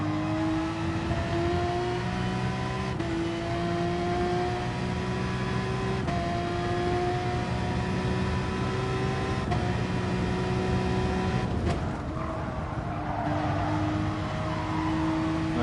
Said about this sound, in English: I'm in the Group 3 Porsche 911 RSR